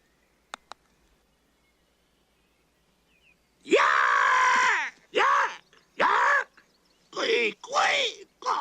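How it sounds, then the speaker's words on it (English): A bird screams in an animated film: after two faint clicks and a hush, a long harsh squawking cry bursts out loud, followed by several shorter raucous shrieks in an uneven series. "It's some kind of a bird."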